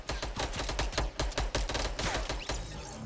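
Gunfire in a video game: a rapid, evenly spaced string of sharp shots, close and loud, like automatic fire sustained for about three seconds with only brief gaps.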